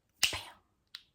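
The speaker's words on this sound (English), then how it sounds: "Once I snap my fingers" A single crisp finger snap rings out close and clear, followed by a faint, short click a moment later in an otherwise quiet room.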